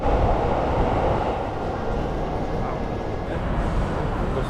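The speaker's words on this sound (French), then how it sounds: "Il y a le Shinkansen qui passe au-dessus et un métro aussi." Shinkansen and metro trains passing overhead in Tokyo give a broad, steady rumble and roar with faint rail clatter, loud and close throughout, with no clear pauses.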